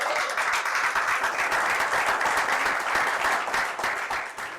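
A church congregation claps together in steady, sustained applause that stays loud and dense throughout, with no pauses.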